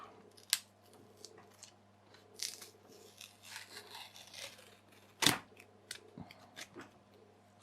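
Plastic wrap is peeled and torn from a faulty 3S LiPo battery pack, sharp crinkles and snaps scattered among soft rustling, close and quiet, with one loud crack near the end.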